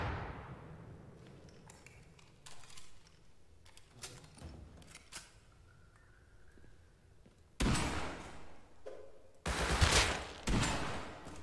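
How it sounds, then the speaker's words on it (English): In the video game Rust, sharp blasts and bursts of gunfire-like bangs come loudest near the end, after a quieter stretch of scattered thumps and clatter. "Sounds like a grenade."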